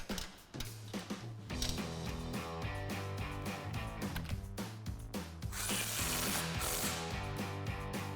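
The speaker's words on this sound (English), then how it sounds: "we're gonna put our brake line bracket back in place and reinstall our 13mm bolt we took out." A hand ratchet driving a 13mm bolt back into a brake line bracket on a Jeep Wrangler JL, a rapid run of sharp clicking pawl strokes, close and loud, repeating steadily without any talking.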